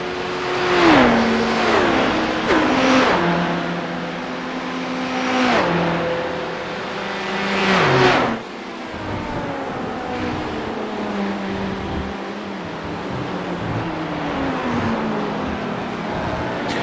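LMP1 prototypes and GTE sports cars from a Daytona 12 Hours racing video game roar past one after another, their engine pitches dropping sharply as each passes, followed by a quieter stretch of distant engines droning around the circuit.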